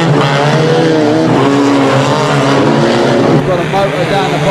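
Banger race cars at Stansted Raceway roaring away together at the start of a full-contact heat, a loud, dense wall of engine noise with tire scrubbing, steady throughout, with an announcer talking over it.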